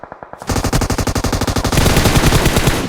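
Gunfire in the PUBG Mobile video game: a fast, loud string of automatic shots comes first, then merges into a dense, sustained roar of overlapping fire from several weapons.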